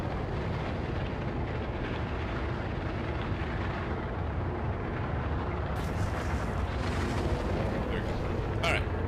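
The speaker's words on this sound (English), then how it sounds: "Calm down with the missiles." Missile explosions in a video game rumble as a dense, continuous barrage of loud booms that fills the whole stretch, with bursts of brighter crackle near the end.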